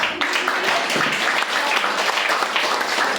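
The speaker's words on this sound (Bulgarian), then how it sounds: "Вашите аплодисменти за Ева." Audience applause at a Bulgarian folklore day event with a student art exhibition, a steady crowd clapping at moderate loudness with a few sharper individual claps standing out.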